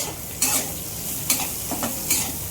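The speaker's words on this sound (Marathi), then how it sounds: "कांदा मस्त परतून घ्यायचा." Onion stirred and sautéed in a pan for a kurdai vegetable dish, a steady close sizzle broken by several sharp scraping strokes of the spoon at irregular intervals.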